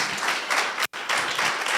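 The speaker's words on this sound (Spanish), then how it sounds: "Dale un aplauso al Señor." Applause from a church congregation during a Spanish-language sermon, a brief burst of clapping that cuts out for a moment and then resumes at moderate volume.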